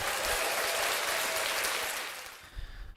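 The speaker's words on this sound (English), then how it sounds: "Round of applause." A live podcast audience gives a loud round of applause, a thick roar of clapping that stays strong for about two seconds and then fades into scattered claps and low rumbles.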